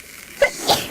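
A single quick sneeze, a short sharp intake followed by a burst, close and clear.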